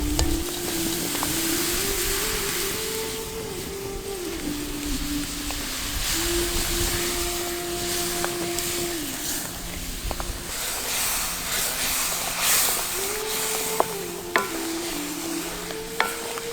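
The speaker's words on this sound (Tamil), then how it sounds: "நம்ம சேர்த்த வெள்ளை எல்லாம் நல்லா கரைஞ்சு பாவு கொதிக்க ஆரம்பிச்சிருச்சு." Thick jaggery syrup bubbles and sizzles steadily in a pan, with occasional scraping from stirring under a low hum.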